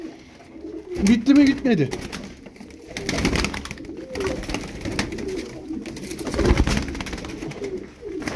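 Çorum tumbler pigeons coo in low, throaty bursts close by, with a stronger call early and another later, while someone talks over them intermittently.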